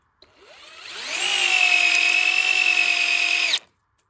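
A cordless drill driver spins up and drives a screw into wood in a single steady whine of about three seconds, close and loud, ending abruptly as the screw seats.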